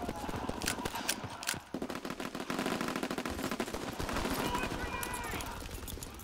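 Rapid rifle fire from an M1 Garand in Call of Duty WWII during a Team Deathmatch on the Aachen map, dense repeated shots running almost continuously, loud and close, with other game sounds mixed in.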